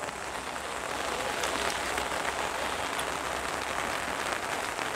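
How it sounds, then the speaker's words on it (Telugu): Heavy rain falling at the Kusimi tribal pineapple market in the Seethampeta agency, a steady, fairly quiet wash of drumming drops on surfaces without any talking. "వర్షం అయితే విపరీతంగా పడుతుంది"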